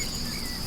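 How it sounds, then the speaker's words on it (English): Crickets and cicadas sing at twilight, a steady, shrill chirring drone that holds level without a break for a brief moment. "cicadas and crickets noisily singing as the golden hour slowly drifts by"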